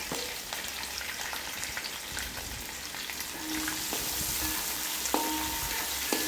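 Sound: onions sautéing in pan

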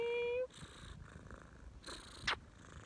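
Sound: cat purring

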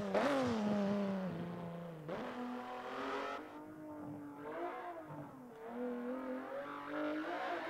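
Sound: Cadillac ATS car engine in racing video game

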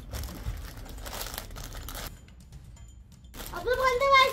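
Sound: opening a plastic bag

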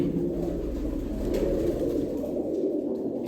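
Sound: pigeons cooing

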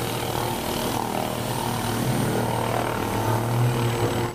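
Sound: cartoon helicopter flying

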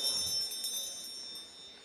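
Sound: hand bell being rung

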